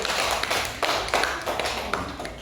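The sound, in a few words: classroom students clapping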